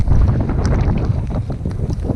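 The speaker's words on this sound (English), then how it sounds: "It is windy up here." Wind blows hard across an open farm hilltop, a loud continuous rumbling roar buffeting the microphone with gusty low-end thumps and no break.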